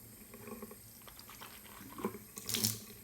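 Tap water running into a bathroom sink while someone rinses their mouth, a soft continuous trickle with faint splashing that swells near the end, close and quiet with no speech.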